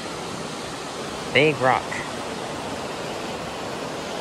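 Waterfall at Big Spring, Missouri, a steady broadband rush of falling water that continues through the whole clip, with a brief spoken remark near the middle over it.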